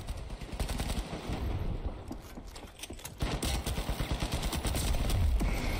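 Gunfire in a shooter video game, rapid automatic bursts and repeated shots close and loud, continuing with only brief lulls and no talk.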